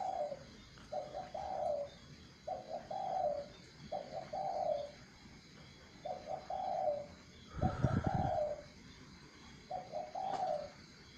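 A dove repeatedly coos at night, short mellow phrases recurring roughly every second in a steady rhythm, fairly close and clear over faint background hum, with no voices.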